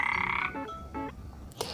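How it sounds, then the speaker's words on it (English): Frog croaking in short repeated bursts, a throaty pulsing call heard several times, close and clear with no talk over it. "A frog makes a croak sound."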